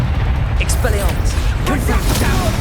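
The Expelliarmus spell is cast in the video game Hogwarts Legacy, a loud whooshing magical burst over dense rumbling combat noise, while a character's voice speaks over it.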